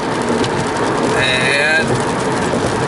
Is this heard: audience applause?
no